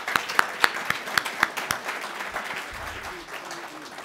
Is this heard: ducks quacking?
no